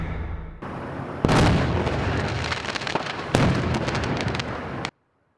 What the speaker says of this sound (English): Explosion sent shockwaves through one Pacoima neighborhood late last night.